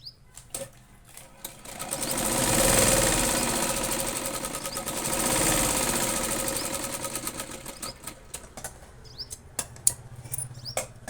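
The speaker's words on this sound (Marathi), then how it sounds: "त्याला आपण डबल टिप देऊ, म्हणजे टिप उधळायचे चान्स राहत नाही" A sewing machine double-stitching a cross-cut cotton strip onto a blouse, running in a steady fast rattling burst that rises and eases, then stops and leaves scattered clicks and handling taps.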